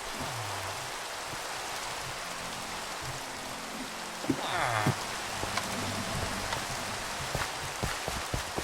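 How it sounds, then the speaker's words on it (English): Constant Minecraft rain patters broadly, with a brief chirping flutter and a few knocks partway through, all at an even level. "I hate when it rains in Minecraft."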